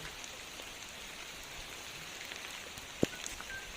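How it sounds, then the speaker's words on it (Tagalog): Steady broadband hiss of heavy rain pouring down on a hill in Batangas, constant and enveloping, with a single sharp tap near the end. "Yung ulan na lakas."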